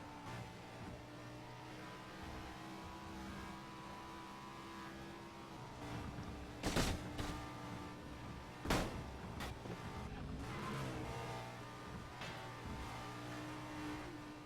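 Audi R8 LMS Ultra race car in a video game, engine droning steadily with a rising rev and two sharp loud bursts midway, then continuing to run.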